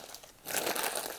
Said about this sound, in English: Fried noodles. For that crispy